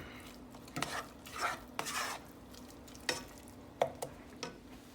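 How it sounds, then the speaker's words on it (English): The oyster Rockefeller topping sautés in a pan, a low steady sizzle punctuated by a handful of sharp scraping stirs and clinks of a utensil against the pan, close but fairly quiet. "Let it saute a little bit."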